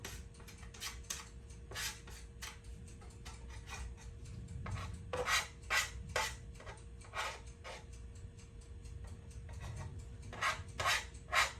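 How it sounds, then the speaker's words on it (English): A metal surface scraper scraping bread dough off a dough scraper while making French bread, a quiet series of uneven rasping scrapes and clicks, close up with no talking. "Now I'm going to use my surface scraper to scrape the dough off of my dough scraper."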